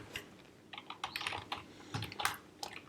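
Computer keyboard typing code, a quick irregular run of light key clicks in short bursts at close range, fairly quiet, with no talking.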